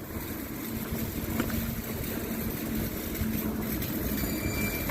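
Cold, gusty outdoor wind in Korea during the Lunar New Year holiday, rushing steadily across the microphone as a broad, continuous roar with no voices.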